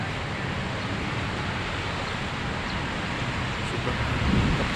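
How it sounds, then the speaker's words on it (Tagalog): Strong wind roars steadily into the microphone beneath a tree, a dense low rumble with constant buffeting and no pauses. "Oh, sobrang hangin."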